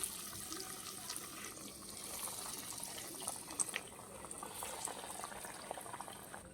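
Chicken cutlets made with pao bread drop into hot oil and fry with a continuous, soft, bubbling sizzle that holds steady at a low level, with no talking.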